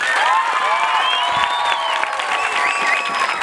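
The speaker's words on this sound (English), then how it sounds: "Then I want a louder clap for everybody sitting here." Audience at a school event where an NGO donates menstrual hygiene kits to schoolgirls, clapping loudly and steadily with crowd noise and excited shouts running throughout.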